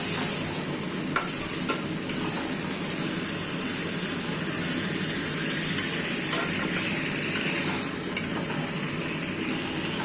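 A pan of foli fish curry with potatoes and tomatoes is stirred, giving a continuous sizzling bubble with scattered scrapes of the spoon against the pan, close by and steady, with no voices.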